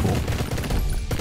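Rapid bursts of gunfire from the top-down action game Mr. Shifty, with loud, dense automatic shots packed into a second-long volley and no talk over them.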